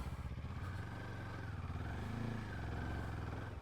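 A Kawasaki KLE500 motorcycle's engine drones steadily at mid revs as its rear wheel spins for grip on a snowy slope, with low harmonic rumble swelling slightly midway through, close and continuous.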